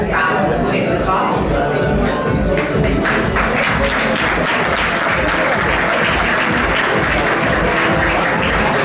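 Audience at an awards gala breaking into loud, sustained applause, a dense crowd of clapping hands that swells and stays full throughout.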